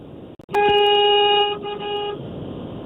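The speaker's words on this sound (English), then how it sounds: "Got a horn for you. It's not an air horn, but it's a big truck, big tanker." A big septic tanker truck sounds its electric horn, not an air horn, in one loud sustained blast lasting over a second and a half, followed by quieter road noise.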